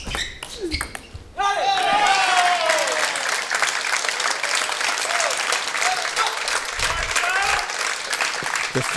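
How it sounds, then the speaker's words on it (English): At a men's table tennis final, a few ball pings give way to loud, sustained applause and cheering from the crowd, with a voice speaking over the noise. "The fans have really gotten into this match and cheering for the youngster, Kanak Jha."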